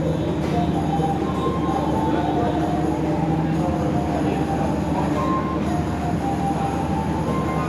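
A passenger train on the Jakarta–Banyuwangi line near Jember rolls along, heard from on board as a steady, loud rumble of wheels on rails with faint squealing tones layered through it.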